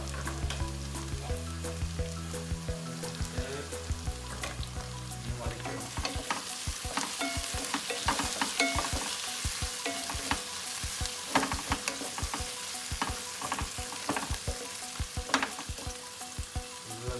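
Long green chillies, slit lengthwise, sautéing in oil in a pan for white chicken biryani: a steady sizzle with frequent sharp spatula scrapes and clicks, close and fairly loud, with no talking.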